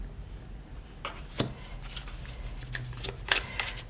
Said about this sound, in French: On me demande de bien battre les cartes.